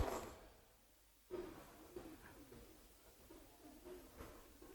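Pigeons in a loft cooing softly at a distance, a few low repeated coos spaced across a quiet background.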